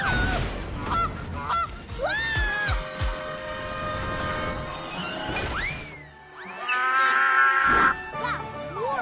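In a children's cartoon, a giant duck gives loud, repeated honks, rising and swooping calls over busy background noise. A brief quiet gap comes near the end before the honking returns strongly.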